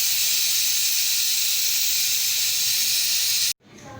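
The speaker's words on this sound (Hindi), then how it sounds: "पहले हम इसकी अच्छे से स्टीम निकाल लेते हैं" Steam rushes out of a pressure cooker holding a lauki gosht curry as a loud, continuous hiss that stops abruptly, leaving a brief quieter tail.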